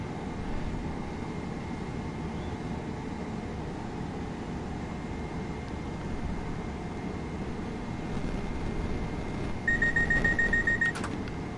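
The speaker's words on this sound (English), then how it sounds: "That beeping noise is the dead man handle switch" A steady low hum of a running Class 377 train engine in a PS4 train simulator, then a rapid series of high electronic dead man's switch beeps near the end, sharp and regular.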